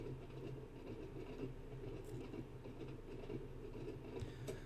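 A Train Sim World 2 train on the Isle of Wight line, Shanklin to Ryde Pier Head, coasts with power shut off, giving a steady low rumble and rolling wheel noise with faint rhythmic clicks throughout.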